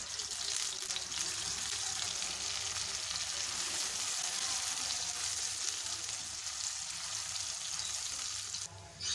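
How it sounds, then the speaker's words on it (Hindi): Sliced onions fry in a pot of hot cooking oil for Lahori chana, hissing and crackling in a steady, dense sizzle heard close up with no talking. "प्याज को हम फ्राई करेंगे गोल्डन कलर आने तक।"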